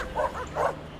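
A dog gives two quick, close barks in a short burst, loud and without any speech over it.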